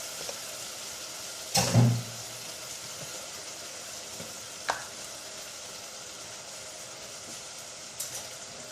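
Tomatoes and minced beef frying in a karahi over lowered heat: a soft, steady sizzle, broken by a loud clattering stir near the start and a few lighter scrapes and knocks later, with no voices.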